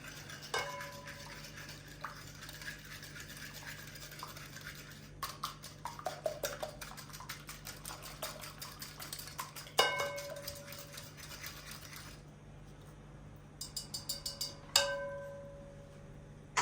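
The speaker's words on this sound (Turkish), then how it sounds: "Hemen şöyle çırpıcımdan güzelce bir çırpım" A whisk beats sugar and salt in a bowl for cheese pogaca dough, producing rapid light metallic clinks and scraping in quick bursts with short pauses, close and fairly quiet.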